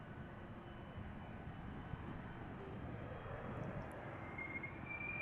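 A 12-year-old Boeing 777 departing Amsterdam Schiphol Airport gives off a steady, fairly distant jet engine roar that holds an even level throughout, with no talk.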